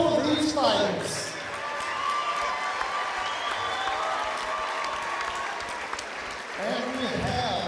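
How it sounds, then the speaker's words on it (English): Crowd applause and cheering fill a fight-night arena after a bout at the Fusion Fighting Championship, a steady roar of clapping with a ring announcer's voice heard over it at the start and end. "Let's give a big round of applause for both of these fighters."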